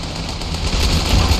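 Rapid bursts of automatic gunfire in the video game Ravenfield, in a World War I trench warfare battle, loud and close, rattling continuously with heavy low-end thuds building toward the end.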